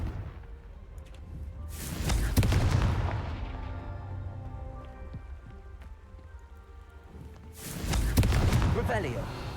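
Confringo fire spell cast in a Hogwarts video game: two loud fiery bursts a few seconds apart, each a crackling, rain-like rush that swells and then fades into a lingering sizzle.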